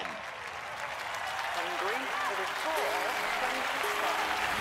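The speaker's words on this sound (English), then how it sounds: "The crowd could go absolutely nuts if this goes down the middle." Crowd applause and cheering in a London 2012 Olympic archery video game, a steady dense roar of clapping throughout with a commentator's voice over it.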